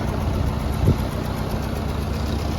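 A lawn tractor engine with a live PTO and two-stage clutch runs at a steady idle, a continuous low rumble with one brief bump in level partway through and no voices.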